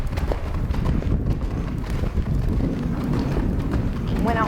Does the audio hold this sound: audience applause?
no